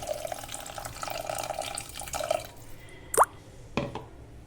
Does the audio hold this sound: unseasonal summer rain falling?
no